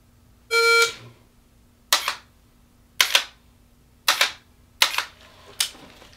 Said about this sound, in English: when we hit start on here, it's gonna give me a time buzzer.